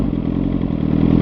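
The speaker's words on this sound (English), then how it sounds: "I love the sound of my exhaust." A motorcycle exhaust burbles loud and close in a steady, throbbing low rumble on a road of mud, dirt and gravel.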